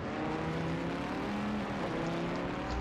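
A Viper race car's engine roars steadily and loud in a racing game qualifying session at Spa, a dense revving drone with layered harmonics held for the whole stretch, with no voices.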